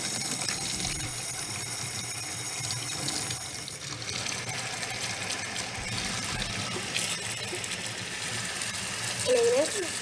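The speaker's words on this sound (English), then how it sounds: "she's gonna put it under running water" A bracelet held under a running kitchen tap while being cleaned, the water gushing steadily and close for the full stretch, with a voice speaking faintly beneath it.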